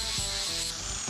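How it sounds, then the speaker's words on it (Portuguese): A metal part for a 4x4 chassis beam is sanded by hand, giving a steady, close, abrasive rubbing and scraping with a few short stroke accents over about a second. "Eu só preciso lixar um pouco ela e depois aparafusar."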